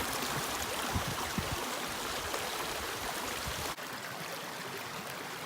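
A stream flows along the Appalachian Trail, giving a steady, close rush of water that runs continuously with no voices.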